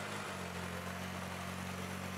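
A Renault R3042 vintage tractor, built 1949–1955, with a 29.5-horsepower four-cylinder car engine, idles close by, a low, even rumble with strong low harmonics holding constant throughout.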